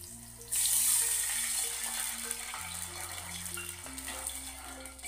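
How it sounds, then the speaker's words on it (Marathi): Water pours steadily into a dhokla batter mixture, a continuous splashing gush that stays alone and fairly close, with soft tonal background music underneath and no talking. "एक वाटी आता आपण या मिश्रणात पाणी मिक्स करून घेऊयात।"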